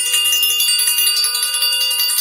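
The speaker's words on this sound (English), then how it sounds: "I'm ringing the bell." A bell being rung steadily, a bright sustained ringing tone with dense repeated strikes, loud and continuous with no talk.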